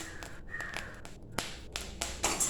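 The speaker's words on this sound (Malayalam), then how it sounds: "കണ്ടോ, അരി ചെറുതായിട്ട് പൊട്ടുന്ന സൗണ്ട് കേൾക്കണില്ലേ." Rice grains crackle and pop while being dry-roasted in a pan for a Kerala rice-ball snack, a scattering of sharp little snaps spread irregularly across the clip over a faint background hiss.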